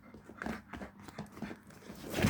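A dog pants and slobbers close by, wet irregular breaths and mouth sounds in a loose rhythm, growing a little louder toward the end.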